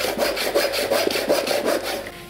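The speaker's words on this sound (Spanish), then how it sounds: "Ahora necesito partir el palo para poder prensar ese palito." A wooden stick being split by hand for a homemade wooden bicycle-style chain gives quick, rhythmic rasping strokes, about nine back-and-forth passes, close and fairly loud with nothing else heard.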